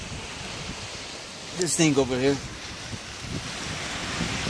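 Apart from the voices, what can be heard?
ocean waves and wind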